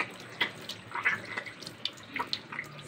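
A broken, leaking kitchen faucet drips, giving irregular soft splashes and small water plinks against a quiet background, several separate drops close by and fairly faint, with nobody speaking.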